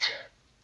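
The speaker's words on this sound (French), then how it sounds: "j'ai éternué" A single short, sharp sneeze bursts out close by indoors, loud at the onset and trailing off quickly into quiet room tone.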